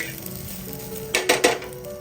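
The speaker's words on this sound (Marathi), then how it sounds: "याला भाजून घेऊयात कांदा आपला थोडा इथं भाजून झालेला आहे" Onion frying in two spoons of oil in a pan, a soft steady sizzle with a few brighter scraping or stirring bursts near the end, close and fairly quiet.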